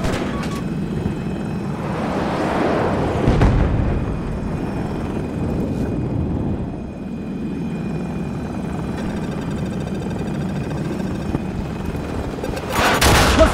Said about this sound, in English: Hostile aircraft spotted 40 meters away from your position!